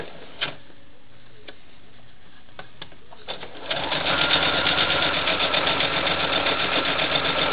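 A sewing machine stitches a quilt block seam, starting after a few faint clicks and then running in a fast, steady, close mechanical chatter until the end.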